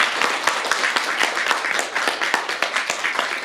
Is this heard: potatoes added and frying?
no